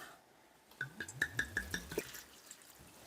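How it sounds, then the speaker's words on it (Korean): Red wine splashes into a pot of sliced apple, kiwi, tangerine and lemon for mulled vin chaud, a short burst of quick, close glugging drips lasting about a second. "여기에 와인을 넣어 봅시다"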